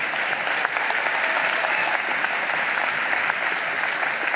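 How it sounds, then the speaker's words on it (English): Steady applause from the crowd at a community college commencement ceremony honoring a distinguished alumnus, an even, dense wash of many hands clapping that holds at a constant level throughout, with no speech over it. "Let's give him another round of applause."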